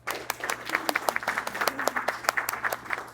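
At a healthcare book signing, a small audience gives the authors a round of applause: continuous, fairly quiet clapping with crisp individual claps standing out, and no voices over it.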